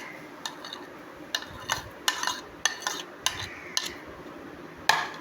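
Pomegranate seeds are added to a bowl of fruit chaat, heard as a series of light, sharp clinks and taps against the bowl, spaced irregularly and fairly quiet.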